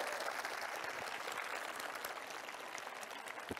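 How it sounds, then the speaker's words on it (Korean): A talk-concert audience in Seongnam breaks into applause, a soft, distant, continuous wash of many hands clapping steadily without speech. "저런 일은 진짜로 여러분 박수 한번 쳐주셔야 됩니다."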